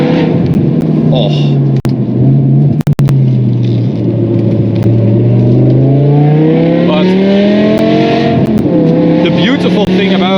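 A BMW M5 E61 Touring's V10 engine revs loudly and holds a high, rising drone that echoes in a tunnel, with a couple of sharp clicks partway through.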